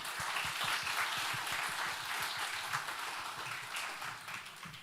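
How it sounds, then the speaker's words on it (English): Audience applause welcoming a keynote speaker at an education talk, a dense, continuous patter of many hands clapping in a hall, steady and fairly loud before slowly easing off, with no talk. "Ladies and gentlemen, please welcome him with a big round of applause."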